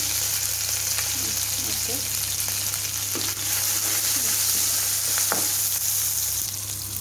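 Ginger frying in a pan with turmeric, ahead of boiled lentils being added, giving a steady close hiss and sizzle with occasional spoon scrapes and stirring clatter, no talk.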